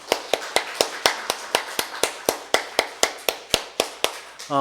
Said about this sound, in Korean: 우리 부활하신 우리 주님께 영광의 박수 올려드리겠습니다.